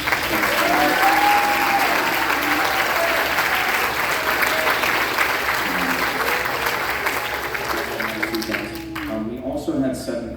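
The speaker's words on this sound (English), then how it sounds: "Give a round of applause to all of these." A middle school recognition concert audience gives a sustained round of applause for seventh and eighth grade band students, dense clapping under scattered voices and cheers, thinning out in the last seconds.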